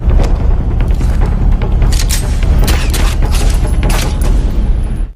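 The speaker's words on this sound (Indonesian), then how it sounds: "Namun tembakan itu salah sasaran" Dense, continuous film gunfire with heavy booming bursts, a loud volley of shots and blasts sustained throughout without pause.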